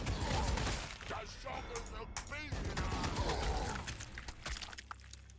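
Battlefield gunfire in the Warhammer 40k Sanctus Reach video game, a dense, continuous clatter of shots and impacts mixed with other game effects and a voice, loud throughout.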